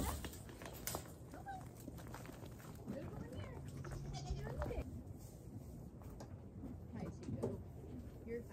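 Pregnant and nursing goats bleat on a snowy North Idaho farm during cold-weather morning chores, several calls rising over steady outdoor noise with a person talking nearby.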